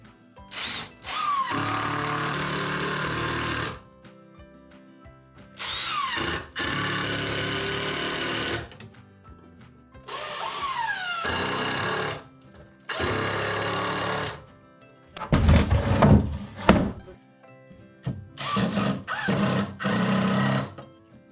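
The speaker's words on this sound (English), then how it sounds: "So I'm going to go and put 2 screws on each leg." A power driver drives screws into wooden legs in repeated bursts of a few seconds each, whirring loudly and close up, with short pauses between screws and a rattling clatter near the end.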